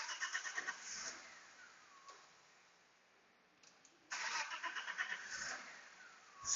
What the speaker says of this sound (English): right now the car is running.